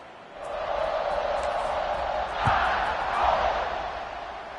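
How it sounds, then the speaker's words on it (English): Stadium crowd at a College Football 26 game between Notre Dame and Alabama, roaring steadily before kickoff, a broad sustained wash of cheering that swells briefly twice with a low thump. "this crowd now ready to get behind them"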